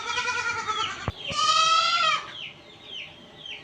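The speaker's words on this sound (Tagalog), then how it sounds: "Maingay ang mga kambing." Goats bleat loudly nearby, several wavering calls in quick succession, one long and strained, with softer bleats trailing off.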